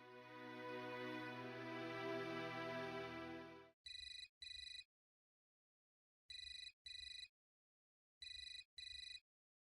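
A phone's electronic tone plays first, then a telephone rings in short double bursts, three pairs separated by silence, clear and close.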